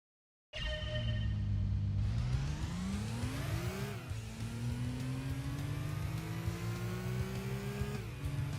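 In a racing video game, a car engine starts abruptly and revs hard through rising gears during a test drive, a loud continuous whine climbing and dipping with each shift, no talk over it.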